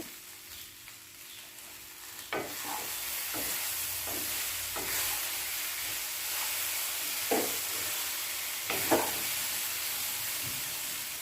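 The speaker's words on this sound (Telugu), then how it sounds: "ఇప్పుడు కొత్తిమీర కూడా వేసుకొని అంతా కలుపుకోవాలి" Okra and peanut fry with coriander being stirred in a pan: a soft, steady sizzle with a handful of spaced spatula scrapes and taps, close but fairly quiet, with no talking.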